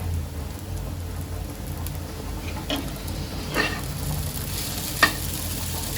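Sabudana khichdi sautés in a pan with a soft, steady sizzle and a few scattered scrapes and clinks from stirring, fairly quiet and without speech.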